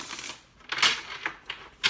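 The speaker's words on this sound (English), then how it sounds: "this will be our last shuffle." Tarot cards are shuffled in a few quick riffling bursts with brief papery snaps between them, close and crisp with no voice over them.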